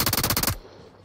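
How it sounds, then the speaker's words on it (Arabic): A fast burst of about eight loud machine gun shots in PUBG Mobile rattles in even rhythm, then cuts off abruptly into quiet background hum. "ده مدفع يا احمد."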